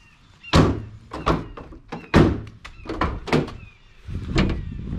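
A Honda Ridgeline swing tailgate with a newly repaired latch shuts, with several close, loud thunks and clunks spread over a few seconds.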